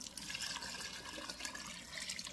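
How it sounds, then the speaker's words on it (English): About four cups of homemade broth pour into a pot of shrimp and okra stew, a steady close gush of liquid with no talking. "We're going to add in our broth that we made."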